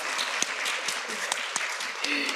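An audience applauds a speaker's mother as she stands at a women-focused panel event, a busy, even clatter of many hands with a few sharp nearby claps standing out.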